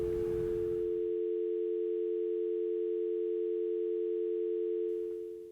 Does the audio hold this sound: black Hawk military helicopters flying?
no